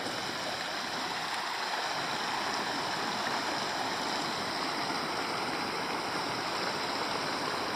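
A roadside stream in Sivas flows in a continuous, even rush of water, steady and unbroken throughout, with no voices over it.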